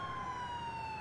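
A police siren from GTA4 holds a steady, loud tone with no talk over it.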